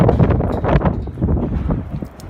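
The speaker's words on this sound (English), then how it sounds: "Oh man, it's windy." Blustery wind in Amarillo, Texas buffets the microphone in rumbling gusts, loud and close, with faint rustling underneath.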